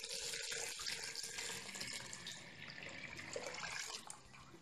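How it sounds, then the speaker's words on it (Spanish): Tap water pours steadily into a cooking pot while making a capulin dessert, a continuous close hiss and splash of running water lasting throughout, with no talking. "el siguiente paso va a ser agregar agua"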